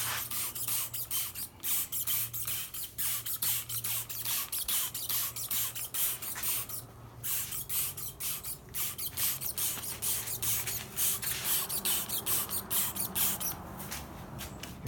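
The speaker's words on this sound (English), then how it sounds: "if I spray a little bit more, it probably would be saturated" Protectant treatment sprayed onto a Mazda Miata ND fabric soft top: rapid bursts of trigger-sprayer hiss in a quick repeating rhythm, close and steady, with a low hum running underneath and short pauses between runs.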